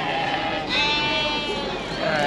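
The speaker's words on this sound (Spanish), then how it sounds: "ya van llevando muchas ovejas" Sheep bleat amid the busy murmur of a large provincial animal fair in Saquisilí, Cotopaxi, with a wavering, sustained bleat standing out above crowd noise and nearby talk.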